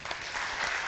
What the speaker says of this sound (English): let's give Daniel a big round of applause.